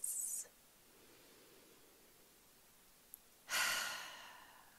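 A person doing a relaxation exercise takes slow deep breaths, a soft airy exhale at the start, a quiet pause, then a fuller breathy inhale and sigh, close and gentle in a quiet room.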